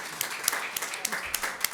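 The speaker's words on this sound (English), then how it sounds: "Round of applause for TV FD." An audience at a Loudoun County community meeting gives a short round of applause, scattered sharp claps over a steady murmur of clapping, moderately loud.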